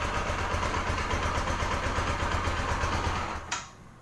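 A Bajaj Pulsar 200NS motorcycle with a weak battery and too-low idle setting idles with a steady, even mid-pitched engine rumble, then abruptly cuts out near the end, leaving quiet.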